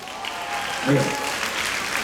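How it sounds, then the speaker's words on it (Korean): Audience applause at a Korean MC-led event, a continuous patter of clapping with a brief voice rising over it near the middle. "박수 쳐드리고 싶습니다"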